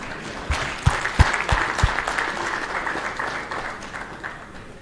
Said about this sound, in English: For him, I will ask for another round of applause.